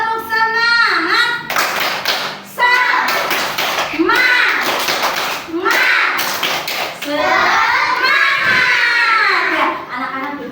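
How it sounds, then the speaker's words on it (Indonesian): Primary school children in an Indonesian classroom perform a rhythmic spirit clap, tepuk semangat, in bursts of patterned clapping mixed with their chanting voices, close and lively. "kita berdiri dulu tepuk semangat sebelum mengerjakan ya"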